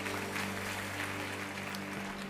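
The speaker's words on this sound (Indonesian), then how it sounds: "Beri tepuk tangan bagi Tuhan Yesus." Church congregation applauding during a worship service, a steady dense wash of clapping with a sustained low hum underneath, fairly distant and even throughout.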